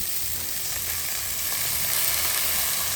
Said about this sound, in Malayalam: അരിഞ്ഞു വെച്ചേക്കുന്ന കൂൺ ഇട്ട് കൊടുക്കാം കേട്ടോ